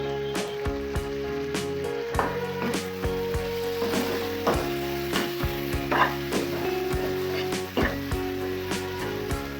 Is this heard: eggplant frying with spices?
yes